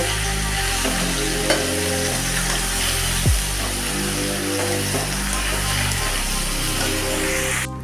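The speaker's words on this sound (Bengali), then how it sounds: "আমি এটাকে এবার নাড়াচাড়া করব" Mango pickle with jaggery is stirred in a pan over a low gas flame, giving a steady low sizzle with soft scraping strokes and a louder clack near the middle. A constant hum lies underneath and no one talks.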